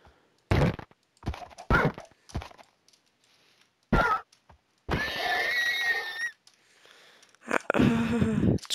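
Horse neighs and hit thunks in a Minecraft-style survival video game, several short bursts across the clip, one longer whinny with a bright harmonic cry near the middle.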